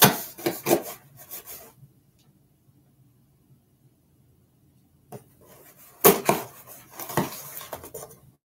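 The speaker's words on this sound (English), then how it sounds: "Gotta sharpen my knife." A knife is sharpened in two bouts of quick, close rasping strokes, separated by several seconds of near silence.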